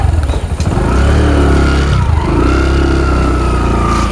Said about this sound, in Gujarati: બાઈક ચાલુ કરે ને